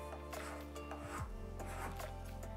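A card scraper drawn across a wood board to raise shavings, a close, steady rasping scrape over a low background hum.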